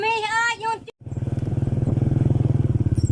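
A motorcycle riding along a rural road, its engine putting out a loud, close, rapid pulsing throb that starts right after a brief spoken line and holds steady to the end.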